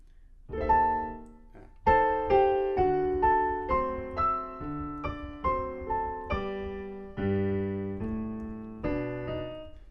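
A bouncy ragtime piano passage from Scott Joplin's "The Entertainer" plays alone, with a syncopated melody over a striding bass line.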